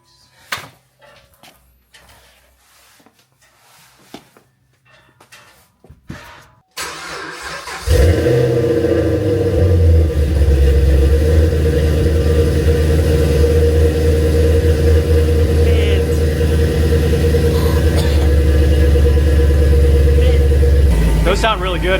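Pro Charged Camaro with a Jegs Legato exhaust cranks and fires after a quiet stretch, settling into a loud, steady deep idle that holds unbroken to the end.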